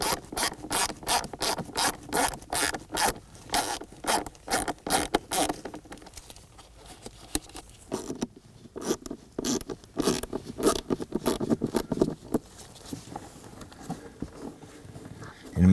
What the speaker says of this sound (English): Now there's going to be a couple, or actually 4 T25 Torx bit screws.